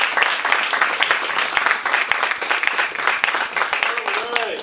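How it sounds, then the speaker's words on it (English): Enthusiastic audience applause fills the room at a late-night short film screening before a Q&A, a dense, steady wash of many hands clapping with some cheering voices mixed in. "So give a round of applause for this."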